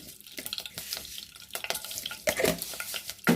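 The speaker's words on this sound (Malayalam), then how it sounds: "ഇതിലേക്ക് നമുക്ക് കടുകിടാം" Close, sporadic crackling and popping of mustard seeds spluttering in hot coconut oil, with a steady sizzle underneath and a few sharper pops near the end.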